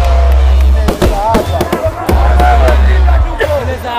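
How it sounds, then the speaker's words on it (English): Fireworks at a Zanzibar Revolution Day celebration, with a steady rapid series of sharp bangs and crackles over a low rumble and crowd murmur, loud and fairly close, while people talk over them. "But these fireworks are beautiful."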